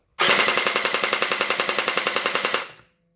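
A Gen 8 gel blaster firing a full-auto burst of about twenty evenly spaced, fairly slow shots, close and loud, then stopping abruptly.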